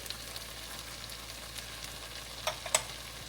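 Vegetables for veg jalfrezi, including red and yellow capsicum and beans, are stir-fried in a pan with ghee and butter, making a soft, steady sizzle with a few sharper clinks near the end.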